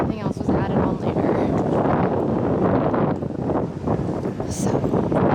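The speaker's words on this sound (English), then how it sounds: "It sounds kind of windy, but it feels nice." Strong wind buffets the microphone with gusty, rumbling roars that rise and fall at the Tower of London's main entrance, while a person talks underneath.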